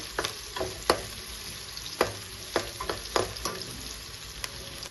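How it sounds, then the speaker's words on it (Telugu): Chopped onions fry in a pan for a paneer palak curry, a steady close sizzle broken by sharp scraping stir strokes every second or so, with no voices. "ఆనియన్స్ తీసుకున్నాము ఇది కూడా మంచిగా ఫ్రై చేసుకోవాలి ఎర్రగా వచ్చిన దాకా కలర్ రావాలి"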